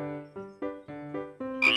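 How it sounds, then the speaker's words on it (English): A frog croaks in a children's phonics alphabet song: about six evenly spaced, throaty croaks, close and clear, ending in a brighter, noisier burst. "F for frog."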